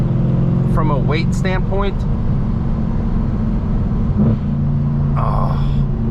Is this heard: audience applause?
no